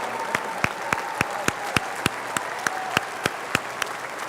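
Audience at a Martin High School graduation ceremony applauds the graduates' parents, a steady wash of clapping with sharp, regular knocks standing out above it, fairly loud and sustained throughout.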